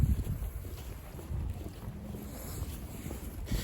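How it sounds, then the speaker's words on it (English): Breezy wind at a park by a small pier buffets the microphone in a low, continuous rumble, loud and close, with no talking. "It's just a little bit breezy."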